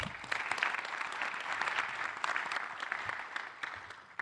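Sustained applause from a crowd at an oratorical competition, dense steady clapping that carries on evenly for several seconds without voices.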